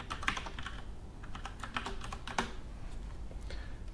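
Typing of a password on a computer keyboard, with fast, close, steady key clicks and no talk.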